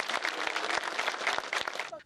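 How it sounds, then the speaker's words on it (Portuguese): Dense, steady applause from a large crowd at the arrival of a coffin at a burial in Caju cemetery, Rio de Janeiro, continuous clapping throughout before cutting off abruptly at the end. "Na chegada do caixão, houve muita comoção e aplausos."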